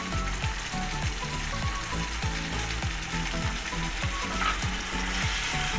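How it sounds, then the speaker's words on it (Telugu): Chicken biryani masala mixture, with mint, coriander, lemon and garam masala, fries in a pot. A steady, close sizzle runs throughout, with rhythmic stirring scrapes on top and no voices. "నెక్స్ట్ 15 మినిట్స్ దాకా వేగించుకుంటాము."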